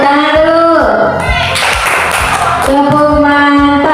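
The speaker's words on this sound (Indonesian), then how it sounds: "Iya, tepuk tangan dulu." Schoolchildren in a classroom clap together in a rhythmic burst of applause, loud and close, with voices chanting along in time.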